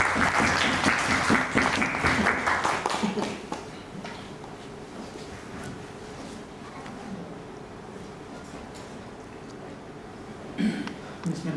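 An audience applauds at a book launch event, a loud burst of clapping that fades after about three seconds into a quiet room with scattered sounds and a brief murmur near the end.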